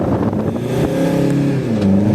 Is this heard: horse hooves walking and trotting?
no